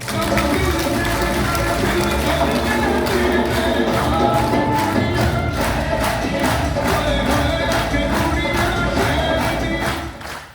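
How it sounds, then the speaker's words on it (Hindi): A seminar audience claps together in dense, sustained applause that stays loud and even for about ten seconds before trailing off at the end. "मैं देख रहा हूँ कुछ लोगों ने तो ताली बजाई"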